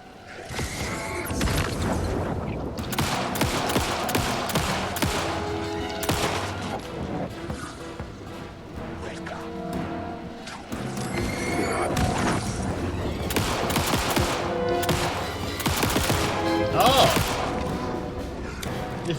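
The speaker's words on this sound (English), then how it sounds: "If we hold down fire, it just auto-fires, like the shotgun did." Rapid automatic weapon fire in the video game Alan Wake 2, with repeated sharp gunshot bursts running through most of the stretch over dense game music and effects, loud and close.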